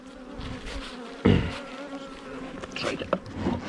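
Dense buzzing of many honey bees at an opened hive close by, a steady insect hum with a louder surge partway through.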